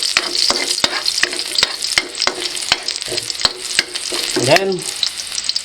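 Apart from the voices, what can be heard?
stirring and frying in pan until golden brown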